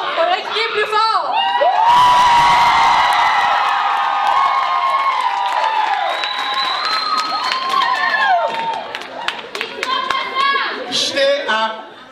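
Audience at a Rubik's cube convention event cheering, shouting and clapping loudly, a sustained crowd roar with whoops and whistles that swells and ebbs over several seconds, with a voice or two amid the noise.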